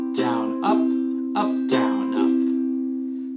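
Ukulele strumming a chord pattern for a song, with about five bright, evenly spaced strokes over a sustained ringing tone, close and alone without talk.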